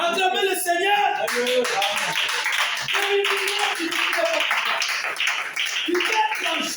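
A church congregation at a Sabbath service claps in praise, rhythmic hand claps ringing out together over singing and voices from the start to the end.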